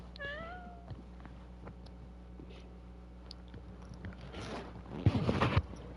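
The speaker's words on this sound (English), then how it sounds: "that's my cat Snowball right there" Snowball, a pet cat, gives a single close meow, followed by quiet indoor rustling and a brief burst of handling noise near the end.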